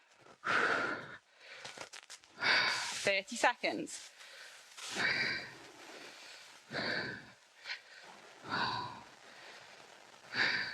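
Heavy breathing during a squat workout, with a run of loud sighing exhales and sharp breaths at irregular intervals, and a voice speaking briefly between them.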